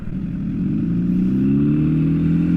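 A loud nearby motorcycle revs up, its engine note climbing and growing louder over a few seconds, rough and clattery at the low end, with nobody talking.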